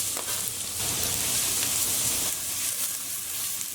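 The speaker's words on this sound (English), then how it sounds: "we just want to lightly fry our onions until they're soft and slightly brown" Chopped onions fry in hot oil in a pot, giving a dense, loud, continuous sizzle close up with faint stirring, with no voices over it.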